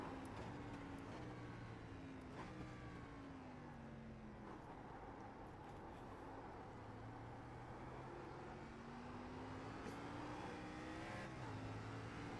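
Race car engine from the iRacing sim at Summit Point, an SRX car droning steadily at high revs throughout, with pitch sweeps as it shifts and accelerates, loud and continuous with no talk.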